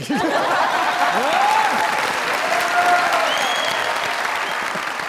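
Studio audience applauding on the comedy talk show Mazaq Raat: loud, dense clapping that fills the room continuously, with a few voices and scattered whoops riding over it.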